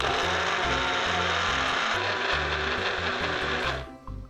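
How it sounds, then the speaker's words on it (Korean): A kitchen blender grinds ten Oreo cookies with 120 ml of milk, a loud continuous motor whir with rhythmic chopping pulses that runs for about four seconds before cutting off. "오레오 쿠키 10개와 우유 120ml를 믹서에 넣고 곱게 갈아줄게요"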